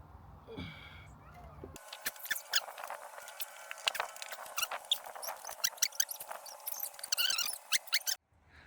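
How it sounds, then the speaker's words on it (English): Steady rain pattering outdoors, a dense wash of drips and taps close by, with a few louder splashes standing out. "well, it's raining"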